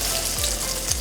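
An eggplant omelet sizzling steadily in a frying pan as it is flipped, a dense continuous crackle with a couple of soft thuds.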